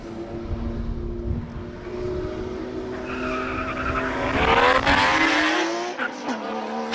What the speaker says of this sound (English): Pajero hits the anchors.